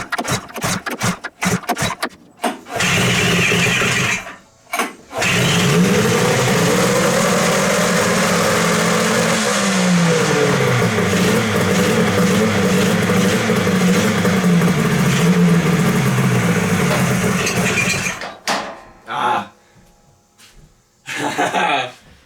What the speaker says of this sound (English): So, I finally got the engine to fire up.